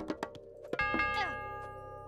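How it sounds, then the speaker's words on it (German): A ding-dong chime in the Age of Mythology strategy game, a bright two-tone bell ringing after a few short clicks, its tone ringing on and fading over a soft background. "Ding dong!"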